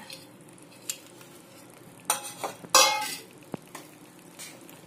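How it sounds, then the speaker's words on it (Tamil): Rava kesari with roasted cashews and raisins stirred in a pan, a few scraping, clinking spoon strokes against the vessel with quiet pauses between them, close and fairly soft. "இந்த மாதிரி எல்லா இடத்துலையும் மிக்ஸ் ஆகிற மாதிரி நல்லா கலந்துக்கோங்க"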